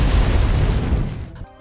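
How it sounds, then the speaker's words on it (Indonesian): A loud, deep blast rumbles as an entrance is blown up in a film action scene, the boom rolling on for over a second before cutting off sharply. "Nova meledakkan jalan masuk."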